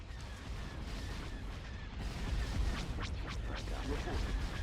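Escort carrier cannon fire in the space strategy game Star Wars Thrawn's Revenge, a dense rumbling barrage of booming shots that swells louder partway through, with several sharp crackling blasts over a continuous low roar.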